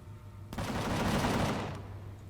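Turret gunfire in Empyrion Galactic Survival bursts in after a quiet half second as a dense, loud rattle of rapid shots lasting about a second and a half, then tails off.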